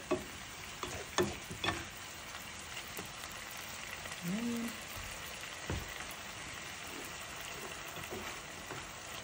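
Small meat cubes with soy sauce frying in a pan, a soft steady sizzle with a few sharp stirring clinks near the start, and a voice briefly speaking over it.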